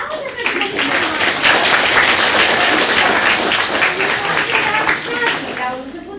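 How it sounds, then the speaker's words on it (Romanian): A live audience applauds a mother of several children at a televised local event, with dense, sustained clapping and voices talking over it. "Da, aplauze pentru mămica."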